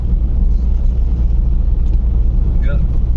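Steady low engine rumble and road noise inside a moving car, with brief faint sounds over it.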